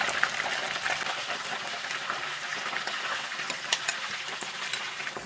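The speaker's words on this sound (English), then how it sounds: "In a kadai, heat oil and put the chicken you have cut into strips for chicken spaghetti." Chicken strips frying in hot oil in a kadai, a steady dense sizzle and crackle with occasional sharper pops, close and continuous with no talking.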